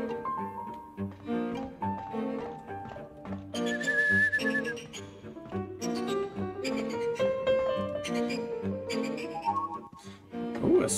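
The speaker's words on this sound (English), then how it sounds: "I hear the bird whistle." A bird whistle chirps in the video game Rule of Rose above a looping melodic music track, with short high trills standing out over steady tones.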